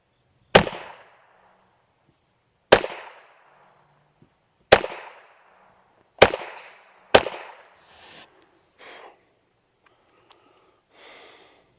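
Five sharp gunshots from an old RG 23 .22 revolver fired double action, loud cracks spaced about two seconds apart, the last two closer together, each with a short decay, followed by faint handling noises.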